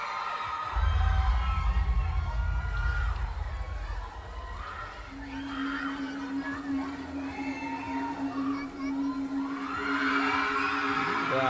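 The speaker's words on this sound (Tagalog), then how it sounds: "Grabe, hiyawan ah." Concert crowd at a show in San Francisco screaming and cheering loudly, with a deep booming intro beat at first, then a sustained tone and continuing shrill shrieks over a dense roar.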